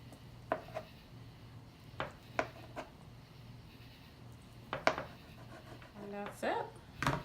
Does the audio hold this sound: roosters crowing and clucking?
no